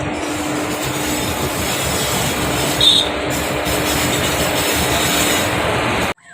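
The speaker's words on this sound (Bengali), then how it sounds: "ট্রেন যাচ্ছে।" A train rolls past on the rails, a loud, steady rumble of wagons and wheels with a brief metallic squeal partway through before the noise cuts off abruptly.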